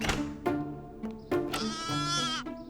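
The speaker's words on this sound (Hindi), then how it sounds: "ये बकरी का बच्चा है।" A baby goat bleats several times in short, high, wavering cries, close and clear, with a few soft thuds between calls.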